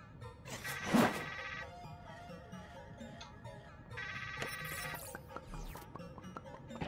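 A telephone rings in the video game Trover Saves the Universe, two bursts of repeating electronic trills separated by a pause, heard over game music and ambient effects.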